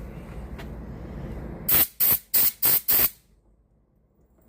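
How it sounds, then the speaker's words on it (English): Compressed air blows dust off a Honda GCV small-engine carburetor part in four or five short, sharp, loud bursts in quick succession, close up, after a low background rumble. "Take some compressed air and blow all the dust off of it."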